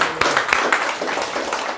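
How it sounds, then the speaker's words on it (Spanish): Hand clapping from a congregation at a Christian prayer service, a short stretch of moderately loud, steady applause with a few sharper individual claps near the start. "un fuerte aplauso a nuestro Dios"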